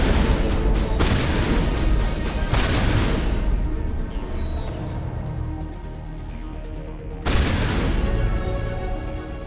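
Gunfire in Mass Effect 1 Legendary Edition comes as dense bursts of booming shots, loud and close, with a quieter lull in the middle before the firing swells again.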